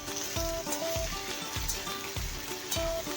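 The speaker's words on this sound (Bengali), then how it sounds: "এই আলুটা আমি হালকা হালকা করে আগে ভেজে নেব।" Potatoes with a dried red chilli fry in hot oil in a pan, a close, even crackling sizzle with a rhythmic pulse of stirring or scraping every half second or so, and no voices.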